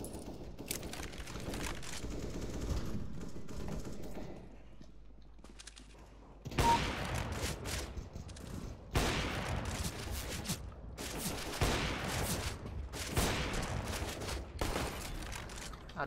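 Bursts of AK rifle fire in CS:GO, loud rapid volleys starting partway through and repeating in several dense clusters after a quieter stretch of game ambience.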